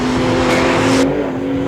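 A 2012 Porsche 911 (991) in Sport mode accelerating hard, with a loud steady engine drone near the listener and an abrupt gear shift partway through, then the engine note continuing.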